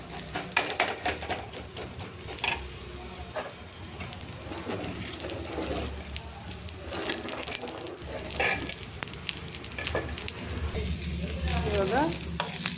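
Cumin seeds, added generously without mustard, sizzle and crackle steadily in hot tempering oil, with occasional stirring scrapes and no talk.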